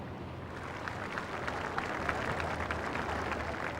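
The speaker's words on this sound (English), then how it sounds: "Others chose polite applause on the road to Windsor" Faint, distant polite applause from a small roadside crowd on the road to Windsor as the Queen Mother's funeral procession passes, a soft scattered patter over steady outdoor background noise.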